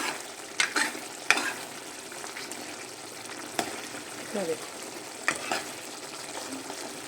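Soft steady sizzle of a thick sauce cooking down in a pan, broken by several sharp scraping stirs of a spoon.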